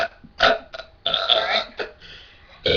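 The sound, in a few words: loud burp in a burping contest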